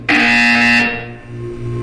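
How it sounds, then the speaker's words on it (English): A harsh electronic buzzer sounds loudly in a Portal 2 test chamber, holding steady for nearly a second before cutting off into a lingering hum. "You will hear a buzzer."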